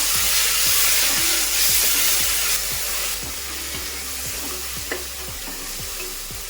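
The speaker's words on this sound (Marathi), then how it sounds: "आणि मिक्स करून घेऊया." Chicken biryani mixture with ground masala sizzles steadily in a pan, stirred with quick regular scraping strokes roughly every half second, close and loud with no voices.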